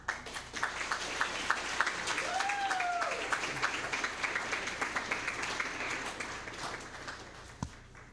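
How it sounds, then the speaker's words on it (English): Steady, moderate applause fills a school board meeting room, a crowd clapping continuously for several seconds before it thins out and a single thump lands near the end. "one more big round of applause"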